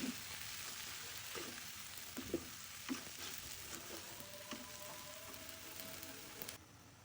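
Shredded cabbage fries hard over high heat in a pan for egg fried rice, a steady close sizzle with a few brief stir and scrape knocks throughout, and no voices.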